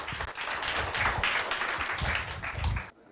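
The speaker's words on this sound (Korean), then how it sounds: "여러분들 큰 박수 부탁드립니다." Applause from a student audience at an exam-prep lecture welcoming a guest speaker, lively and uneven with distinct sharp claps, cutting off abruptly at the end.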